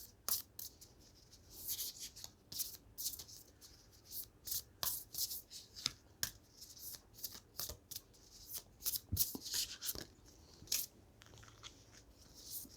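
Oracle cards are shuffled for a tarot reading, giving a run of crisp riffling bursts and soft sliding rubs that repeat steadily throughout, close and fairly quiet with no voices.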